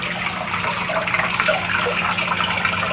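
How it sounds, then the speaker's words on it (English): Water pouring steadily down into an aquarium fish tank at a park, a continuous splashing gush heard up close with no talking. "See where that water comes down here."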